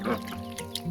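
Pekin ducks in a flock let out a short burst of nasal quacking, close and moderately loud, lasting under a second with a faint background murmur.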